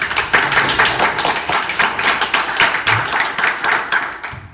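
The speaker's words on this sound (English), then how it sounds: "Let's give our judges a round of applause." Audience applauding the judges at a startup pitch competition demo day, a steady wash of many hands clapping close and loud throughout, with no voices over it.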